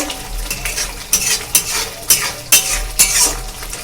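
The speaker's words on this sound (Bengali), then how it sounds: "মশলাটা সুন্দর করে কষা হবে" Chana masala spice paste, sweetened with sugar, being stirred and fried in a pan: a metal spoon scrapes and clatters against the pan in repeated sharp strokes, with a continuous sizzle underneath, close and loud.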